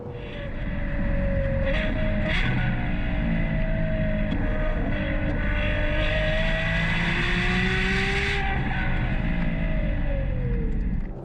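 A Novitec-tuned Ferrari 812 Superfast with its big V12 accelerates hard down a runway, a loud continuous engine roar climbing and shifting in pitch for about eleven seconds, heard close and alone.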